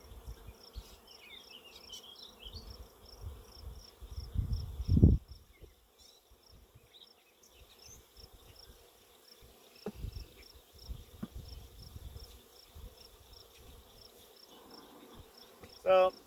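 Honey bees buzz around an opened beehive during an inspection, a faint, steady drone of many insects across the whole stretch, broken by a few louder bumps and handling knocks close by.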